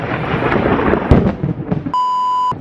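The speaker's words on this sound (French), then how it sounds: "C'est les éclairs. Alors je sais pas si ça s'entend à la caméra mais il y a des éclairs de dingue." Thunder from a lightning storm in the jungle near Kuala Lumpur, heard as rolling rumbles and cracks over light rain. A steady electronic beep sounds near the end.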